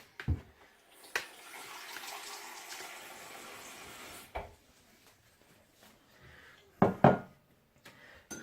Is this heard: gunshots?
no